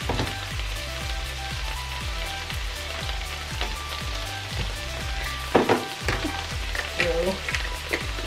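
Chicken, shrimp and garlic powder sizzle on a hibachi grill in a steady, crackling hiss close by, with a brief clatter of utensils partway through and no talk.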